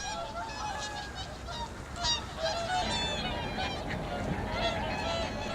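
Whooper swans on open water give a chorus of honking, trumpeting calls at moderate distance, overlapping one another steadily with a few louder cries, alongside ducks at their feeding grounds.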